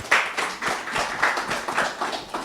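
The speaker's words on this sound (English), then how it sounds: "So a round of applause to Jessica," Applause from a conference audience at a talk on nuclear generation in Africa: a sparse, light patter of hand claps with a steady pulsing rhythm, fairly close and without voices.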